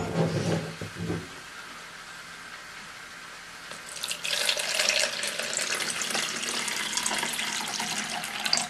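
Water runs steadily from a tap into a jug, a hissing stream that grows brighter partway through, close by.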